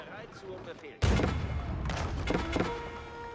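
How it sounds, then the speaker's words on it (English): A bombard or cannon firing in an Age of Empires game: a sudden deep boom with a sharp attack, then rumbling follow-up shots and debris, with a game voice line heard faintly beforehand. "Bombard or cannon firing away."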